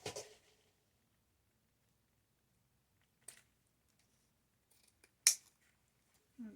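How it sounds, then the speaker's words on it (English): Scissors snipping a piece of ribbon during a table decor craft project: a few sharp, isolated cuts in near silence, with one crisp snip standing out in the middle. "I'm going to go ahead and snip that off."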